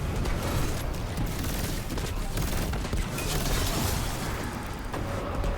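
Dense, continuous weapon fire in the video game Destiny 2, with a fusion rifle and Dragon's Breath launcher blasting in close succession, loud and unbroken throughout.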